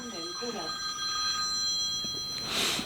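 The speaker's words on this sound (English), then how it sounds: "someone's phoning me" A mobile phone rings with steady electronic tones, sounding moderately loud and close against low background noise, with brief talk at the start.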